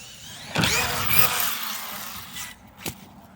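A radio-controlled car revs with a high whining electric motor as it launches off a large ramp, the whine swelling and fading, then a sharp thud as it lands.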